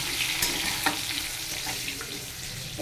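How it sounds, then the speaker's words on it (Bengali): Potato pieces fry in hot oil with bay leaf, cardamom, cinnamon and cumin in a pan, giving a steady close sizzle with a few clinks of a stirring spoon, and nobody talks. "আলু ভাজা হয়ে গেছে"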